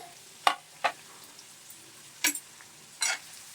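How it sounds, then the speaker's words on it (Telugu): Onion pieces dropped into hot oil in a kadai crackle in a few short, separate bursts over a quiet background. "ఇప్పుడు ఆయిల్ వేస్తున్నాను కళాయి వీటెక్కిందండి ఇదిగండి ఉల్లిపాయ ముక్కలు వేస్తున్నాను"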